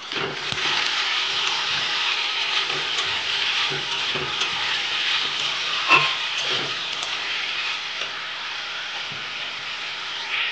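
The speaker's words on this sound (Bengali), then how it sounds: "আলুগুলোকে নেড়ে নেবো। এটাকে নেড়ে নেবো।" Potato pieces frying in a pan are stirred with a steady crackling sizzle, close and moderately loud, with scattered scraping knocks of the spoon and no talking.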